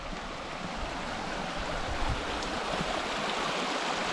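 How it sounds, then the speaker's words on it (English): Water flows steadily along a Colorado mountain trail, a continuous broadband rush that stays even and close throughout with no voices. "Flowing water"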